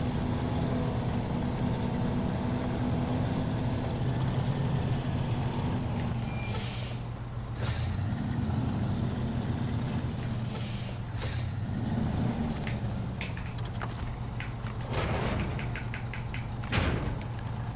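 A heavy truck in SnowRunner rumbles in reverse with a steady low engine drone, broken by several sharp hissing air-brake bursts in the second half, heard alone without voices.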